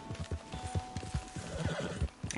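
A horse in Red Dead Redemption 2, ridden at night, gives a whinny over a quick, steady beat of hoofbeats, all at a fairly low level.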